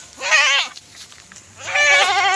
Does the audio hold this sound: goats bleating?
yes